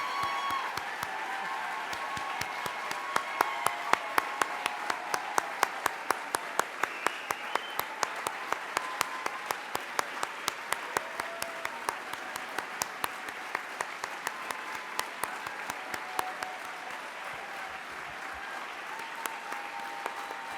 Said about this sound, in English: Please join me in enthusiastic applause for this year's MBD honoree, Ann Fitzmaurice Adams